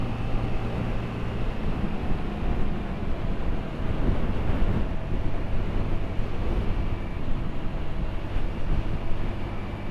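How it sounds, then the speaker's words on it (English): Strong wind roars steadily across the microphone while riding a small Honda Navi motorbike through parkland in Louisville, Kentucky, a dense continuous rumble with the low engine hum mixed in throughout. "This bike is small enough that you do have to fight with the wind some."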